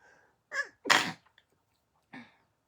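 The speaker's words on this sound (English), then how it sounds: "And now I get a sneeze." A single sharp sneeze with a quick intake beforehand, close and alone in a quiet room, followed by a short soft exhale.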